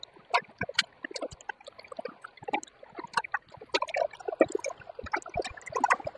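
Muddy water running across a road after a landslide makes faint, scattered trickling and dripping splashes in an irregular patter, with no talk over it.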